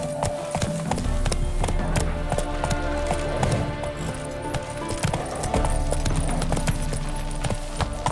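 Roach, Geralt's horse in The Witcher 3, gallops steadily with rhythmic clip-clopping hooves, close and continuous, while game ambience plays underneath.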